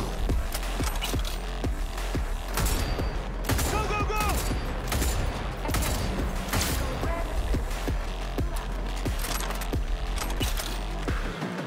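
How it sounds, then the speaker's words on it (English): A big gun fires in Cyberpunk 2077, loud heavy shots repeating steadily through a continuous, dense combat din with mechanical clanks between them. "I like this big gun though."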